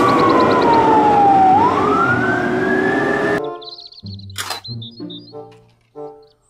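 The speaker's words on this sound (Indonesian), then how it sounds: "Mobil truk pemadam" A toy fire truck siren wails loudly with a rising and falling electronic tone for about three seconds, then gives way to short plastic clicks, beeps and mechanical toy noises.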